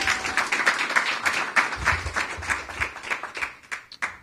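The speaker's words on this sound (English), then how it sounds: "So give one more round of applause to Jermisha." Audience applause at a school student-guide launch event with the city mayor, dense rhythmic clapping from a crowd that holds steady for several seconds before thinning out.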